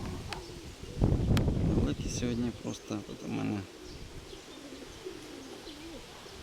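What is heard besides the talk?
pigeons cooing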